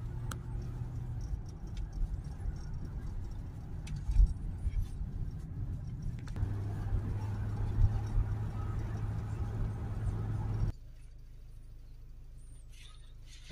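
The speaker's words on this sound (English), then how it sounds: "We'll take it now on a test drive." Land Rover Discovery Sport 2.0 diesel on a road test drive after DPF, SCR, EGR and AdBlue injector work, heard from inside as a steady low engine and road drone that rises slightly, then drops to a quieter idle near the end.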